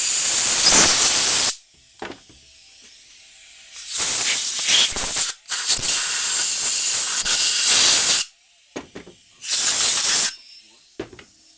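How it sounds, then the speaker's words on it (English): Compressed air blasts through a disassembled carburetor during cleaning, coming as three loud, sustained hissing bursts of one to four seconds each, close up, separated by quieter gaps with faint handling noises and no talk. "Now blow through everything with some compressed air."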